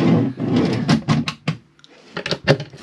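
Storage drawers beneath the transverse island bed of an Auto Trail Tracker RB motorhome slide and knock shut in a quick run of close wooden clunks and rattles, with no talk.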